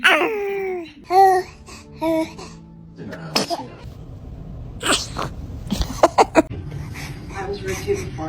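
A newborn baby makes small squeaky vocal sounds and a sneeze early on, followed by soft murmurs and a few sharp bursts, close and clear against a quiet room.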